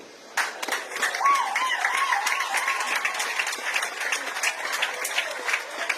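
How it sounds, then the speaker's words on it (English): Audience applause at a speech during the commissioning of solar power for a hospital, starting abruptly after a brief pause and holding as steady, dense clapping from a crowd for several seconds, with faint voices mixed in. "Big round of applause, ladies and gentlemen."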